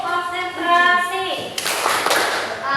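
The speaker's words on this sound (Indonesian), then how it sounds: "yaitu tepuk konsentrasi. Ya. Tepuk konsentrasi." A class of schoolchildren performs a concentration clap rhythm led by a teacher: voices chanting at first, then a burst of brisk group claps with a couple of sharp accented hits, fairly close and loud.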